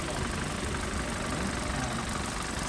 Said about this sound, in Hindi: ये है जी इसका इंजन।